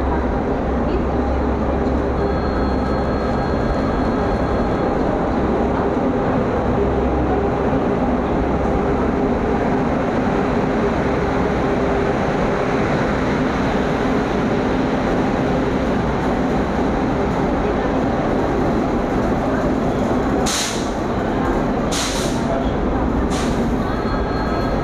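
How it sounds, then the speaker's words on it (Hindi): The Gitanjali Express rumbles into a station platform with a steady, loud rolling roar of wagons, and a few brief high wheel squeals near the end. "फाइनली 5:34 पे हमारी ट्रेन प्लेटफॉर्म पे लगाई जा रही है।"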